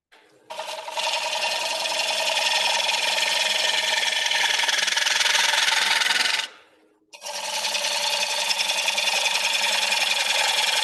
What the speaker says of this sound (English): I'll go back to standard tool here and do some more hollowing.